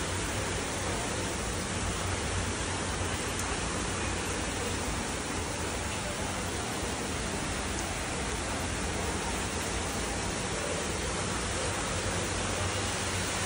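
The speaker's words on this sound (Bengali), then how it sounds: "প্রচুর বৃষ্টি হচ্ছে, প্রচুর।" Heavy rain falls steadily and densely, a constant broad hiss without pause for the whole stretch, with no voices.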